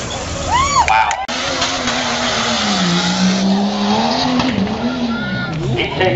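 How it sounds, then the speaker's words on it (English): A four-wheel-drive truck turns at an off-road tough truck challenge, its engine droning loud and steady with a rising and falling whine, while an announcer talks over a public address system throughout. "Another nice turn down there for a four-wheel drive."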